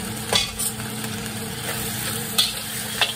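Crab paste being stirred into a pot over the heat, during a crawfish catch-and-cook near a flooded trailer and RV area, makes a steady sizzle broken by a few light scraping clicks of the spoon, with no talking.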